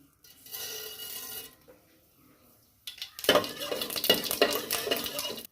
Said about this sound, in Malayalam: ഇനി നമുക്ക് കടുക് ഇട്ട് കൊടുക്കാം